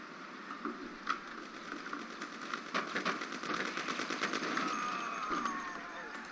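Rapid gunfire from a sniper shooting at a worker in the Mafia game crackles in a dense, steady stream of sharp reports, moderately distant, with a voice talking over part of it.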